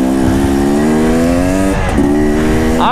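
An enduro motorcycle rides downhill, its engine droning loud and close at a steady, slightly falling pitch, with a brief dip and a rev rising near the end.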